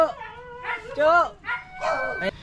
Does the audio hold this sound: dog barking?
yes